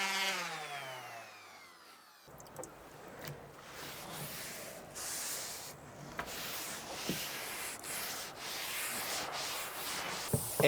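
Wood for the back panel of a shoe rack being hand-sanded, a steady, close, continuous rubbing scrape that starts after a brief quieter lead-in and carries on with small bumps and strokes.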